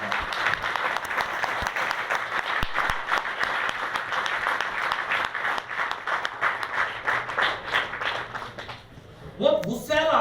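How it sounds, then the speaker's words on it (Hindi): Loud, sustained applause from a large audience at a motivational speech, dense clapping filling about nine seconds before fading, followed by a brief voice at the end. "बहुत जोरदार तालियां चाहते हैं"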